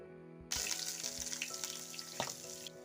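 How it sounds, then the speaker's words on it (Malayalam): Sliced shallots tipped into hot coconut oil after mustard seeds have popped burst into a sudden loud sizzle that holds as a steady crackling hiss, with a sharp spatter partway through and then an abrupt stop. "അതിലേക്ക് ചുവന്നുള്ളി വട്ടത്തിലരിഞ്ഞത് ചേർത്ത് കൊടുക്കാം"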